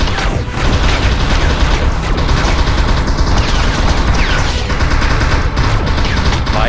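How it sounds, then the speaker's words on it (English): Sustained loud gunfire in the VR shooter BlackShield: Upora Story, a mounted machine gun hammering out a continuous dense burst with explosive booms and mechanical clatter throughout. "Move your hands on the machine gun and grab it."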